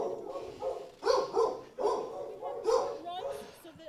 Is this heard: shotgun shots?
no